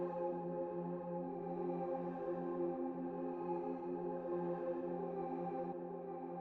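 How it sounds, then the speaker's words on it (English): A sustained, steady techno synth pad with layered tones holding evenly throughout, with a soft, slow half-note echo trailing behind it. "I'm going to give it some echo"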